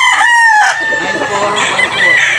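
Gamefowl battle stag roosters crow loudly and close, a long rising-and-falling crow followed by overlapping crows and clucking from other birds nearby.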